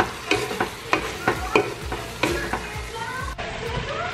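Ground meat for lasagna soup fries in a pot while a utensil stirs and breaks it up. Close scraping strokes land at irregular intervals over a constant crackling sizzle, with no talking.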